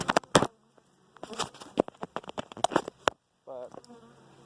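Honey bees buzz close by in an open hive during inspection, a droning hum that swells and breaks off, with a short pause before the buzzing returns.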